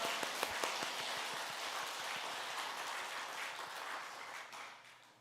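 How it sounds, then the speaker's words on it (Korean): Church congregation giving a round of applause after a hymn, a fairly faint, even patter of many hands that fades toward the end. "하나님께 영광의 박수를 올려드리겠습니다"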